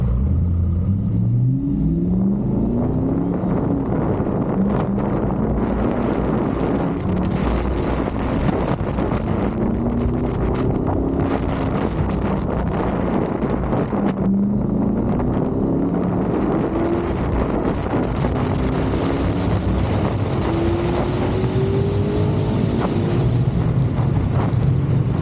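A mid-engine car is heard from inside while driving on the road, its engine droning and rising through repeated gear changes under constant road and wind roar.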